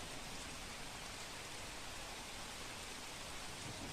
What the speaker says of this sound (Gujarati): દાંતામાં સતત વરસાદ વરસી રહ્યો છે